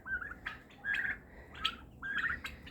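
Turkeys wandering in a yard give short, repeated high-pitched chirping calls in four bursts, fairly close and alone without talk.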